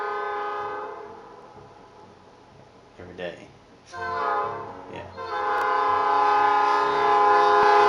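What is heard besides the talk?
train passing with horn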